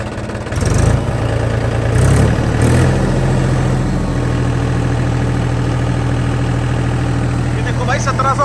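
A Mahindra tractor with its rotavator levers down revs up toward 1700 RPM, a loud, close diesel note that climbs and settles into a steady hum while a voice talks over it.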